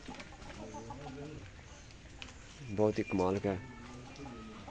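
A red rooster clucks in a rural farmyard after heavy rain, a short burst of loud, close calls rising over a man's ongoing speech.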